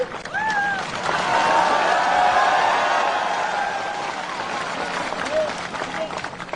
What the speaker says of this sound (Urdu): اس پہ تالی ماریے